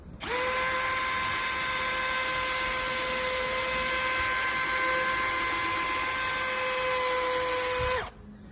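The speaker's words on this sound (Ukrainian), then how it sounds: "Змочуємо фару і починаємо шліфувати." A power tool whines at a steady high pitch for about eight seconds, then spins down and stops, wet sanding a yellowed car headlight.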